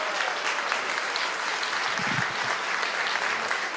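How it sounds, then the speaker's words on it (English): An audience at a fundraising gala claps steadily in the room, a dense, even wash of applause that holds for several seconds with no voices over it. "If you're glad to be alive tonight, clap your hands in the room."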